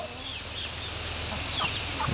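A rooster on a rural Colombian farm gives soft clucks amid steady outdoor background noise.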